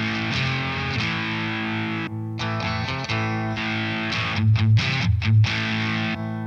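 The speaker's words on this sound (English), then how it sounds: "The super distortion and feedbacker is so much fun." Heavily distorted electric guitar played through a Boss IR-2 pedal on its super distortion and feedbacker setting, thick sustained chords with sharp stops and restarts, loud and up close with no talking.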